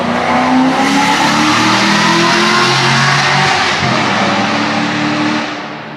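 A car passing close by while revving its engine hard, a loud roaring acceleration sweeping through and fading slightly at the end, with no talking.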